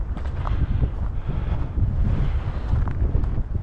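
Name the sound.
strong wind blowing on a walk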